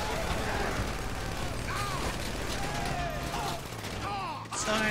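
Gunfire in a Grand Theft Auto V heist mission, with dense rapid shots running throughout, loud and continuous, with game effects behind.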